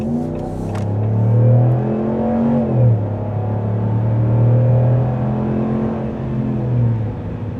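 A 2026 RAM 1500 pickup with a Hemi V8 accelerates hard, its engine rising in pitch, dipping briefly at a shift, then climbing again as a loud, close, sustained growl heard from inside the cab.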